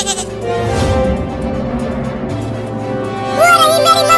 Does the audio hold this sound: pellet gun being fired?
no